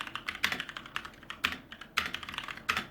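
Someone types steadily on a wireless RGB mechanical keyboard with brown switches, producing a soft, fairly quiet patter of uneven keystrokes heard up close with no talking.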